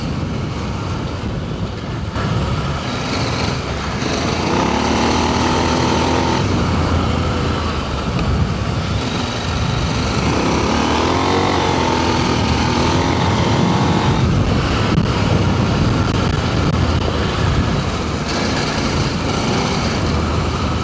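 A KTM 890 adventure motorcycle rides over the rocky Marble Run, its engine drone blending with heavy wind buffeting and rough terrain noise throughout, with no talking.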